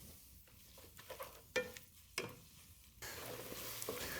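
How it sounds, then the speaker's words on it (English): Green onions and bay leaves sizzling in a pan on high heat, quiet frying crackle broken by a few sharp stirring scrapes, then a steady louder sizzle near the end. "I'm gonna wilt down these green onions for about 5 minutes on high heat."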